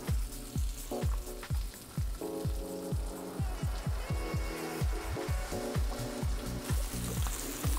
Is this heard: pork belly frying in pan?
yes